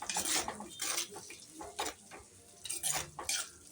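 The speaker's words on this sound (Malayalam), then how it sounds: "ഞാൻ വീണ്ടും എടുത്ത് തുറന്നിട്ട് ഒന്ന് ഇളക്കിയിട്ട് പിന്നെ ഞാൻ അടച്ചു വെക്കൂട്ടോ" A lid is lifted off a cooking pot and tomato is stirred, giving a series of close metal clinks and scrapes of a spoon against the pot, with quiet gaps between them.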